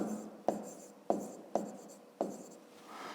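Pen writing out a maths solution on paper, five short scratchy strokes, each starting with a sharp tap and trailing off, close and quiet with no talk.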